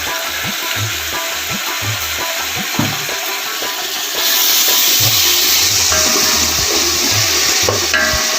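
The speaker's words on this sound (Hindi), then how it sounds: "मैंने प्याज डाले और सिर्फ 1 से 2 मिनट इन प्याज़ों को पका के साथ ही टमाटर डाल दूंगा" Onions frying in a pot for Afghani pulao, a steady close sizzle and hiss throughout that grows slightly louder partway through, with low bubbling and occasional stirring knocks underneath.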